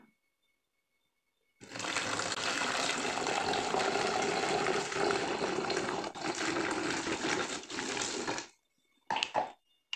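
Laundry perfume mixture poured steadily into a container, a continuous liquid rush lasting several seconds before stopping, followed by a brief splash.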